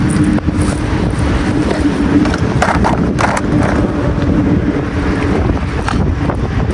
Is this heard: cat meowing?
no